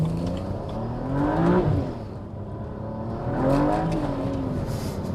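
A BMW 335i with the N54 engine and boost limited to 10 PSI accelerates hard out of a corner in first gear, its engine note rising in two loud surges, close by.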